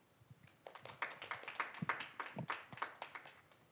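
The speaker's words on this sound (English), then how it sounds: "Please welcome him with a big applause." Scattered clapping from a small audience at an AI policy symposium, a moderate patter of individual hand claps building and holding steady, fairly close and not very loud.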